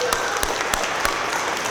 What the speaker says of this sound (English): Let's put a big round of applause for Mrs. Stoll.